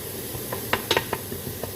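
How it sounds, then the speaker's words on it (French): Bolognese sauce simmers gently in a pan, with soft continuous sizzling and a scattering of small bubbling pops and light spoon clicks at close range. "il faut laisser mijoter tout doux, en faisant réduire"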